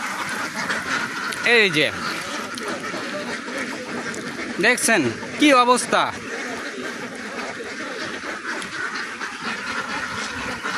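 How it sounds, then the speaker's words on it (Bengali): Native deshi ducks on a duck farm quack in a few loud, close bursts over steady flock chatter, with someone talking throughout. "বাট হাঁস আছে এত হাঁস সব দেশি হাঁস"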